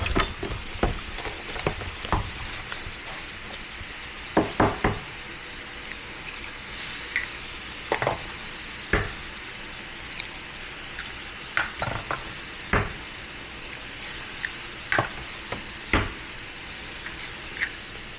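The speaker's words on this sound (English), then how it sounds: "And cook the eggs." Eggs frying in a pan for a simple meat-and-egg lunch, a steady low sizzle running throughout with sharp utensil scrapes and clinks against the pan at intervals.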